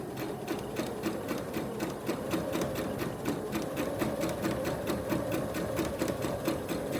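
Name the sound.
sewing machine stitching fabric mask edge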